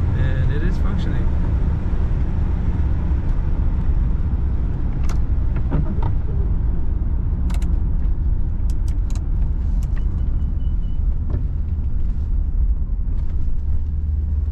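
A 1992 Cadillac Brougham D'Elegance cruising on cruise control fills the cabin with a loud, steady, unbroken low road-and-engine rumble, with faint scattered ticks and thumps over the drone.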